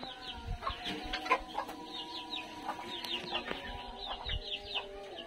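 Chickens struggling in hot weather cluck softly at a distance, scattered short calls among quiet farmyard background sounds.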